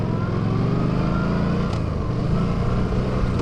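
A Yamaha V-Star 1300 Deluxe motorcycle engine runs close with a steady, deep loping rumble throughout, loud and continuous with no talk.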